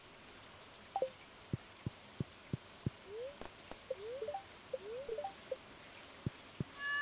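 Soft rain ambience in the Stardew Valley video game: a faint steady patter with scattered drips and light taps, quiet and even, with small chirping tones and clicks over it.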